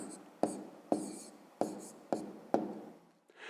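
Chalk or marker strokes tap and scrape on a board five times in an even rhythm while a math answer is written out in a lesson, crisp and near with no talking.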